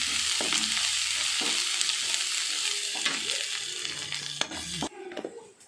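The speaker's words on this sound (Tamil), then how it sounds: "நம்ம இதில் கொஞ்சம் உப்பு சேர்த்து வதக்குவோம், அப்போ தான் சீக்கிரமாக வதங்கிடும்." Ingredients for paneer butter masala sauté with salt in a hot pan, a close, constant sizzle broken by scraping stirs of the spoon, with no talk over it.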